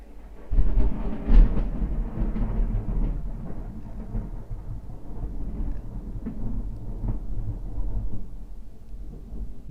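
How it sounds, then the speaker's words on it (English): A long rumbling roll of thunder in the video game GTA III, loud, low and booming at first, then trailing into a sustained rumble. "Damn, that thunder!"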